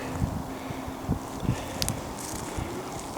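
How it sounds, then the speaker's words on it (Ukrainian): Gusty wind roars and buffets steadily through a rocky gorge, with occasional low thumps and rustles as it hits the microphone. "Вітер дме з усіх боків."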